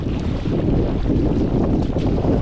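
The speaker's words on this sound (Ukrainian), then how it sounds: "Ти що вітер роздувся?" Strong wind buffets the microphone in rough, rumbling gusts that carry on throughout, with no talking.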